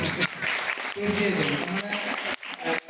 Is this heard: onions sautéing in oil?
no